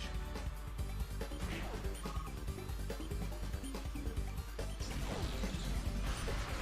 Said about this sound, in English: A smashing blow. That dealt some massive damage.